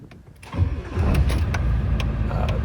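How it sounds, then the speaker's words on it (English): A 1995 Ford F-350 with a 7.3L diesel cranks in the cold and catches, settling into a loud, rough, clattering idle close by, with no talk. "I'm going to try to start the truck here again,"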